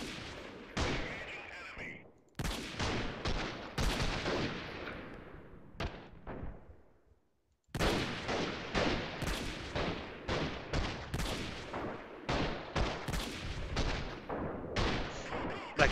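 Rapid bursts of video game gunfire in a guerrilla-style firefight, repeated sharp cracking volleys in quick succession with a brief lull partway through, loud and close.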